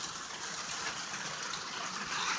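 Rain falls outside during a flood, heard as a steady, faint, broadband hiss that stays even throughout with no voices.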